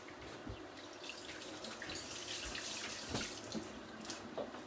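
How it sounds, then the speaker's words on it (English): Hands being washed under a running kitchen tap after chopping prawns, a steady close stream of water splashing into a sink with small louder splashes throughout, no talking. "Let me wash my hands."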